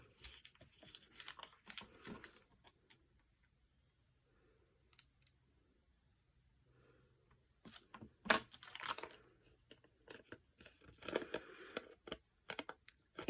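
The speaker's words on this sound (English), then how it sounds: "So now I need to cut that bottom bit off of him." Paper is cut at a work table while art journalling, with the bottom piece trimmed off. Quiet, intermittent crisp snips and papery rustles come close up, sparse at first and then clustering into busier bursts toward the end.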